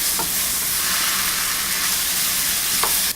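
Liver fry sizzles hard in a pan with curry leaves, a loud dense frying hiss filling the whole stretch, with faint stirring touches near the start and end.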